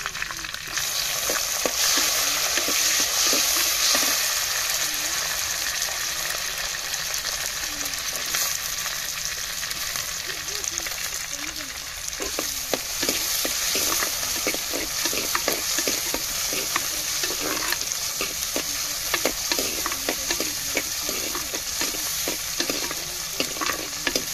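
Tomato and chili fry for a fish curry with curry leaves, a loud, dense sizzle running throughout while a spoon stirs and scrapes the pan in rapid, repeated strokes, close up and without talk.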